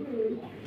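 Mundian and Shoukhin pigeons give a single short, low coo, close and moderately quiet, with faint background noise.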